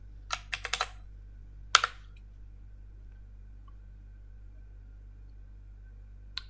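Someone types on a computer keyboard: a quick cluster of close, soft key clicks, a second short burst, and a lone tap near the end. Long quiet gaps with a faint low hum fill the time between.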